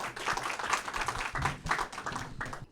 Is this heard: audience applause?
yes